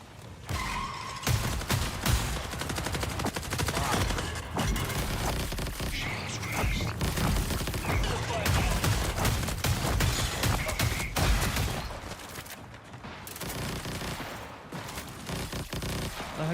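Video game gunfire, with dense, continuous bursts of shots and explosive crackle filling the clip, mixed with game effects and occasional talk.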